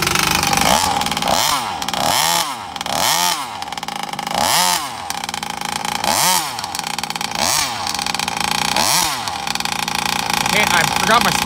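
A Rovan Baja 32cc petrol RC car engine, running rich during its run-in, is revved about seven times in a steady rhythm of rising and falling buzzing wails over a rough idle, close and loud.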